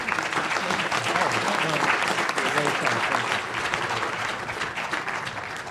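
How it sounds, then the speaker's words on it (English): Sustained applause from an audience honoring panelists at a university symposium on migration, dense steady clapping filling the room throughout. "Could we have a round of applause for them, please?"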